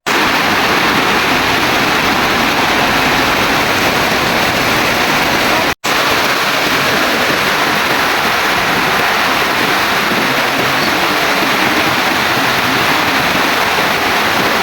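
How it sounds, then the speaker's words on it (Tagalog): Heavy typhoon rain pours steadily outside a family home, a dense, loud, unbroken roar of falling water with one brief dropout partway through. "Malakas na nga itong ulan"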